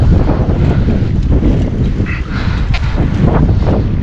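Strong, loud wind buffets the microphone without a break while riding a motorcycle with no front wheel, a dense rushing roar.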